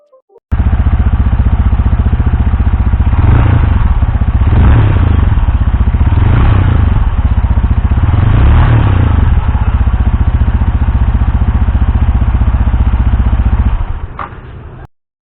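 Yamaha R15 V4 sport motorcycle idling with a steady, loud, close exhaust note, rising in a few brief revs before cutting off near the end.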